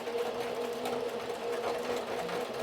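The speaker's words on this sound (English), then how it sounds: "and let the sewing machine do its job." A sewing machine stitching a wig runs steadily, its rapid mechanical whir and needle chatter continuous and close.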